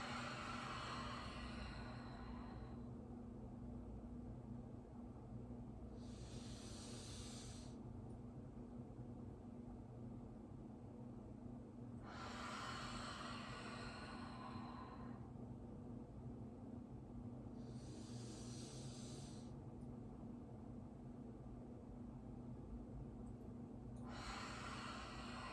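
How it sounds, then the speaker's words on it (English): Slow, deep yoga breaths recur as broad hissing inhales or exhales about every six seconds, steady and close over a constant low hum with no talking. "Breathing in, lifting the chest and the eyes and the tailbone. Breathing into the belly,"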